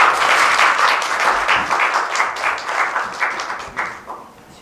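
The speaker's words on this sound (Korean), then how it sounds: "뜨거운 박수 부탁드리겠습니다." An audience at a forum claps in a dense burst of applause that starts loud and gradually thins and fades out over a few seconds.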